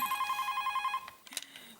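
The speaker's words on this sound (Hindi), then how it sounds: "अभी फोन उठा रही है तो उठा, घंटी बज रही है कब से।" A telephone rings with a rapid electronic trill for about a second, then stops, followed by a brief clatter.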